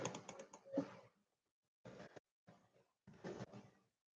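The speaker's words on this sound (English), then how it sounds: "I'm typing. I'm doing Google." Someone types on a computer keyboard in short bursts of quick, soft clicking, separated by brief pauses. The keystrokes sound close and quiet, with no talk over them.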